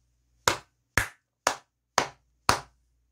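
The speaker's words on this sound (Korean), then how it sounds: "박수 한번 크게 치고 가도록 하겠습니다." Five crisp, evenly spaced hand claps ring out close and loud, about half a second apart, with nothing else in between.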